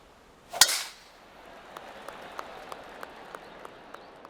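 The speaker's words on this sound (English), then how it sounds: "So I'm going to do an overpower full send shot off the rocks." A sharp, loud golf club strike in PGA Tour 2K23 is followed by a series of faint, evenly spaced ticks as the ball bounces and rolls away off rocks.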